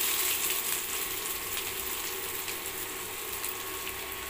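Onions sizzle in hot oil in a wok (kadhai) as a steady, close, broadband hiss that holds evenly throughout without speech.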